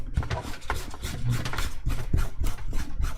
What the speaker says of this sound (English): This is a special rubber for this purpose. I just rub it like this.